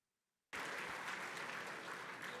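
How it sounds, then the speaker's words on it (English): Applause for award winners at a Navy League luncheon: after a brief silence, a room-filling crowd bursts into steady, dense clapping that holds at full volume to the end. "please give another round of applause for this year's award winners"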